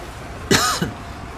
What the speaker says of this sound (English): Sorry for the coughing there.